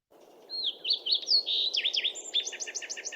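A thick-billed fox sparrow sings a rapid, bright song of slurred whistles and quick repeated notes, with a robin-like phrase mimicked near the end, close and clear over a low background rumble.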